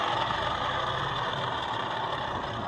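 A motorcycle engine idles steadily with a rough, abnormal noise coming from the transmission and its pulley side, a close, even drone with no talking.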